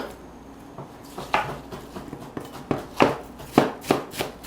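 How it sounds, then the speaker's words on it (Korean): A knife finely chops apples on a cutting board in a home kitchen, a string of crisp, sharp thuds landing in an uneven rhythm that grows louder and quicker, with no voices. "그래서 잘게 다져주세요"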